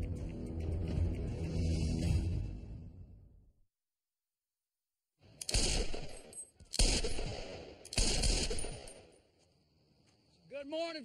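Three loud, sharp gunshots ring out about a second apart on a morning shooting outing, each with a short decaying tail, following a few seconds of talk and a brief silence.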